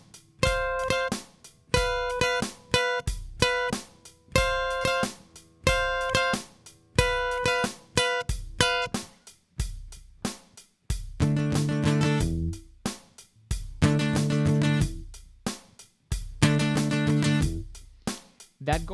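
Electric guitar playing a song's chorus over drums, a tight rhythmic run of short, choppy chord stabs repeating in bars, with a fuller, sustained section midway and no talking.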